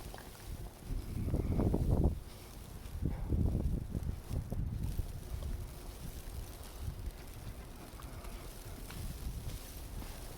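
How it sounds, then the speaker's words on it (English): Gusty wind during a nor'easter snowstorm in Halifax buffets the microphone in low rumbling bursts, strongest early on, then settles into a quieter, steady rush. "Ooh, wind is blowing every direction."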